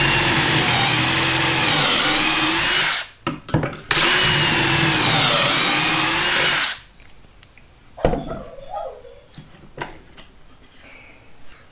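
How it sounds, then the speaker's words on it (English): A power drill driving pocket screws into shelf boards, a loud close whine for several seconds, a brief stop and restart, then stopping, followed by quieter handling clicks and knocks. "Alright, I'm going to go ahead and get the rest of these drilled in"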